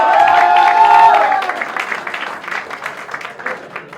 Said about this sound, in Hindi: जोरदार तालियों से स्वागत करो मेरे प्यारे भाई